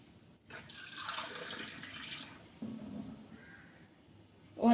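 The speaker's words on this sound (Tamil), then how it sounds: "இப்போது தண்ணி ஊற்றலாம்" Water pours into a pressure cooker holding lentils and bottle gourd for a dhaba-style kootu, a steady splashing stream lasting a few seconds, then a brief louder clatter at the end.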